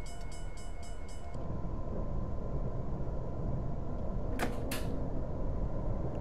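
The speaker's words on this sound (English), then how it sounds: "Still seems like it's braking really, really good, almost too good, even with the longer train there" Train braking in Train Simulator 2014 on the Pacific Surfliner route, a long train giving a steady heavy rumble and rail noise, with a couple of sharp hissing air-brake bursts near the end and rhythmic clatter at the start.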